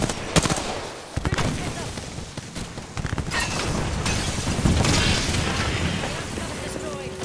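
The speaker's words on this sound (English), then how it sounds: "I am taking fire, friends." Bursts of close gunfire and sharp impacts from the Apex Legends battle royale shooter crackle in quick rhythmic volleys over a dense, busy game soundscape.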